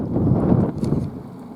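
Cold wind blowing outdoors in a spring garden, a steady low rushing and buffeting against the microphone that continues throughout without pause.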